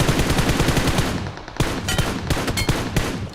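An M416 rifle with the Shinobi Kami skin fires in PUBG Mobile: a loud, rapid automatic burst at first, then sparser, sharp shots and short bursts, close and without talking.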